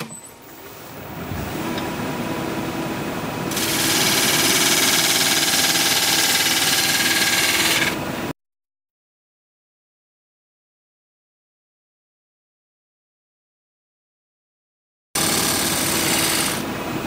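Wood lathe spinning a burl bowl blank at about 1100 RPM, a steady loud whirring hum that swells after a few seconds, cuts out to silence, then resumes near the end, no talking.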